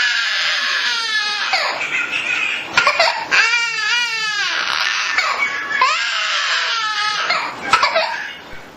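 A parrot imitates a crying baby, producing loud, close wailing sobs in repeated rising and falling bursts with warbling pitch, broken by short gaps.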